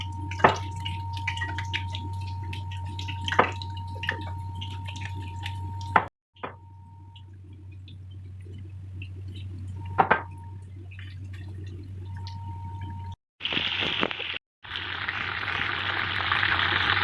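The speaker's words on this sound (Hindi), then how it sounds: "अब हम इसे डीप फ्राई करेंगे" Marinated chicken for orange chicken goes into hot oil to deep fry: a steady low hum and a few drips, then a loud, close sizzling hiss bursts in near the end.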